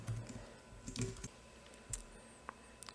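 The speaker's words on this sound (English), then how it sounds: "I'm going to type in a message." Quiet clicks of a computer keyboard as a short message is typed, a few scattered soft keystrokes with gaps between them, close and faint.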